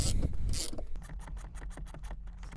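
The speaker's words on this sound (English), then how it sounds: "Maybe tough to turn at first, but that just means it's working as you're crushing that riv nut back there to hold the threads in place" Ratchet wrench turning a bolt to crush a riv nut inside a fifth-generation Toyota 4Runner center console, giving a steady run of rapid clicks after a brief rustle, close and clear, with no talk.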